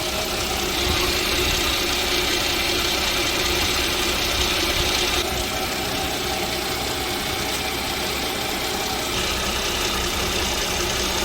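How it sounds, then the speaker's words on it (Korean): A Genesis BH330 with fault code P0430 idles with noticeable engine vibration, a steady, close mechanical hum and rattle that holds throughout without speech. "아이들 상태에서 보면 여러분 눈에 떨리는 게 보일 것 같은데"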